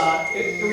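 A mobile phone ringing, a short, steady electronic tone that repeats and sounds close and fairly loud.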